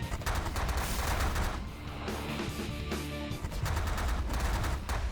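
Rapid gunfire from ships attacking pirate base turrets in the space strategy game The Last Federation: dense, loud bursts that run almost continuously, with a short lull midway before the barrage picks up again.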